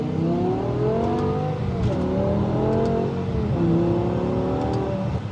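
A BMW M5 with its V10 engine pulls hard in power mode, the exhaust rising in rising, falling harmonic sweeps through gear changes, loud and continuous from a close onboard position.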